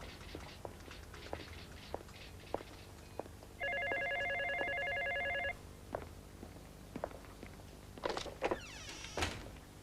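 A telephone rings once in a quiet indoor room, a single electronic trill lasting about two seconds, clear and moderately close, with faint movement and footsteps before and after.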